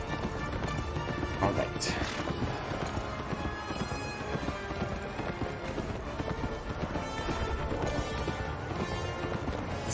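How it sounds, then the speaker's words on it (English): Horse hooves clip-clopping in the video game Kameo: Elements of Power, a steady rhythmic gait heard under game music and effects, with a brief spoken remark. "Let's dismount the horse."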